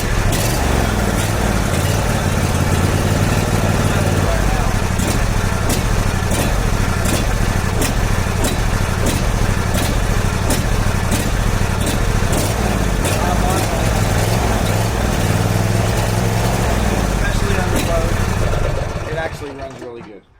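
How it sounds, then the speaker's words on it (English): A John Deere D140 lawn tractor engine runs steadily and loudly for about twenty seconds, its idle wavering with a slight surging before cutting off at the end. "I'm going to start it up and just kind of give you a demonstration of, hopefully you'll hear that surging a little bit."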